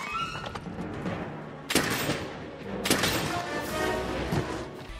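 Light and heavy bowguns fire ammunition in the video game Monster Hunter, a few loud sharp bursts of shots separated by rumbling in-game noise.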